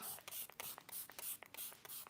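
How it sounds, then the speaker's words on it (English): ColourPop setting spray misted onto a face in a series of quick, close hissing pumps, roughly eight or nine short bursts in an uneven rhythm, quiet and alone. "I used my ColourPop spray instead of my e.l.f. just because it was beside me."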